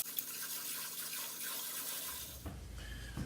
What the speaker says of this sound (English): rinse them thoroughly in some cold water.